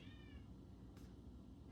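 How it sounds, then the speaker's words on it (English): A house cat meows once near the start, a short faint cry with rising harmonics, over a low steady hum; a brief hiss-like burst follows and no one speaks. "You can hear my cat."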